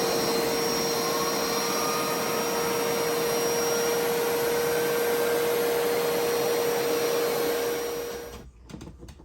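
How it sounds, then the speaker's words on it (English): A carpet shampooer extracts dark, dirty water, its loud, steady suction whine running unbroken for several seconds before it cuts off abruptly near the end. "let me get the scrub with the shampooer"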